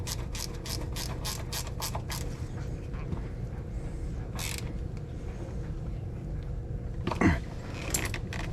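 A hand ratchet tightens bolts on a Can-Am Outlander ATV winch, giving quick bursts of clicking near and clear, a pause, then a few more clicks and a light metallic clatter in a quiet workspace.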